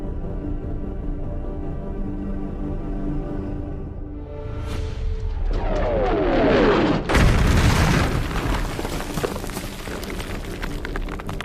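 Artillery shelling on a 1951 Korean War mountain battlefield in a film: a descending shell whistle ends in a heavy, booming explosion, then rumbling debris and scattered crackles.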